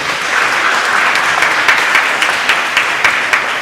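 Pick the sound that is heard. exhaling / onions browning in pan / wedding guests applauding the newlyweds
wedding guests applauding the newlyweds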